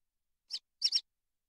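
A little cartoon bird in a Peppa Pig video game sings three short, high chirps, one alone and then a quick pair, clear against silence.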